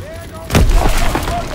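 A grenade explosion in the Call of Duty WW2 video game, a sudden loud boom that rises out of quieter battle ambience and rumbles on for about a second, with voices in the mix.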